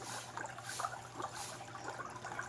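Water trickling in a fountain in a mosque's mini plaza, a faint, continuous patter and splash heard from a short distance, with no voices.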